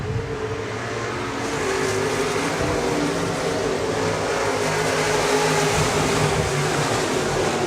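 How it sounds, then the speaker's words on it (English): Stock cars and modifieds racing at Park Jefferson Speedway, a steady loud roar of engines running together throughout, with no talking. "96R of Steve Reynolds to the inside of Matheson now as they battle for that 3rd spot"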